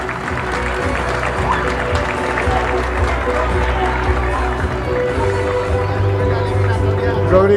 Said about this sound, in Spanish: Aplaudido.